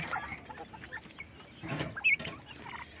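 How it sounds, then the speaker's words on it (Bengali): Short clucking calls from European white giant coturnix quail, a few soft, irregular notes close by, with one brighter, louder call near the middle over low background noise. "European white giant কটনিক্স coil"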